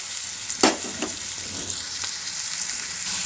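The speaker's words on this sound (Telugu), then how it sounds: "ఉల్లిపాయలు వేగుతున్నాయండి" Onions and green chillies fry in a pan for an old-style vada pulusu, giving a steady close sizzle with a few sharp stirring scrapes near the start and no talk.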